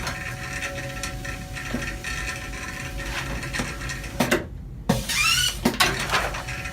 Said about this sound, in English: It makes a very unique sound when it cuts Teflon.